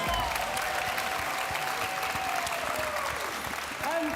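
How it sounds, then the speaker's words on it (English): Steady, dense applause from an audience at a GT World Series racing event in Los Angeles, loud and continuous throughout, with faint crowd noise beneath. "Let's give him a round of applause, please."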